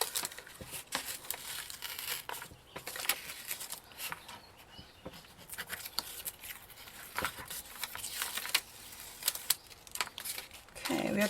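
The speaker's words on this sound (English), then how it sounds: "Okay, paper's tearing off the mat." Sheets of paper being peeled off a resticked Cricut cutting mat, giving continuous crinkly tearing and rustling close by, with sharper crackles scattered throughout.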